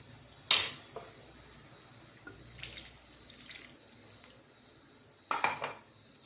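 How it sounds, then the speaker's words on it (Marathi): Water is poured over sautéed masala in a cooking pan for stuffed brinjal, giving two short splashing pours with a softer trickle between them, close and otherwise quiet. "आता आपण थोडं पाणी घालूया।"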